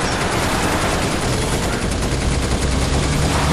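Dense automatic gunfire from the video game Binary Domain on Xbox 360: a continuous, loud rattle of rapid shots and crackling bursts with no pause throughout.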